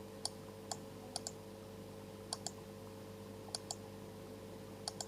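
Light computer keyboard key presses during Photoshop editing, a Ctrl+Z undo shortcut: several sharp, quiet clicks, some in quick pairs, spaced irregularly over a low steady hum.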